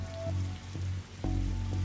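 Rain in the game The Darkside Detective: a constant low rumbling wash of rainfall with a few soft thuds, moderately quiet and growing slightly heavier near the end, with no speech.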